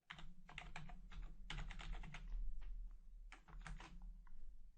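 Fingers type on a computer keyboard in close, rapid bursts of clicking keystrokes, pausing briefly between runs, with no voices over a low steady hum.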